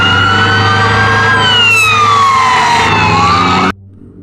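A loud electronic siren from a toy fire truck wails with rising and falling tones, then cuts off abruptly near the end.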